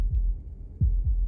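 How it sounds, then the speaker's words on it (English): A deep, muffled heartbeat from the video game Slay the Princess, three low thumps standing alone over a faint rumbling background. "That was the sound of a heartbeat."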